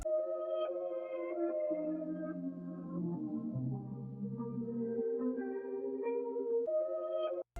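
Reversed pitched texture from a Cryptic one-shot kit, with every other note dropped five semitones, swelling in a steady alternating pattern of low and higher tones, sustained and continuous on its own.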